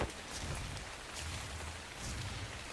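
Rain falling in the video game Ark Survival Evolved, a soft, steady hiss of drops on surfaces, faint and even throughout with no voices.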